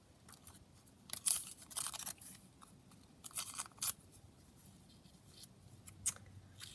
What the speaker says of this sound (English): got some doily here, so just tear some of that down